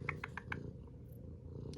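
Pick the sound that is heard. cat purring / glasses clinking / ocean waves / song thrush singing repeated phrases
cat purring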